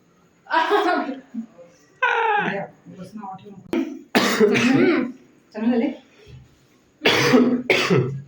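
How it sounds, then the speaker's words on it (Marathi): A person coughing repeatedly indoors, several loud close bursts of hacking and throat clearing in quick succession with short pauses between. "तसं मला सध्या खोकला लागलं."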